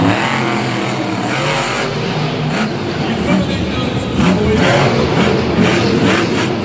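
Monster truck engine roaring during a freestyle run at a Monster Jam stadium show in Lyon, France, loud and continuous with surging revs, a commentator talking over it.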